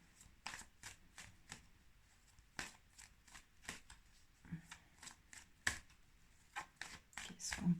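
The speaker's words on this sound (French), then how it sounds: "Alors, brassons." Oracle cards, from the Oracle des Miroirs deck, are shuffled by hand in a string of crisp riffles and soft slaps, repeated irregularly and heard close and fairly loud.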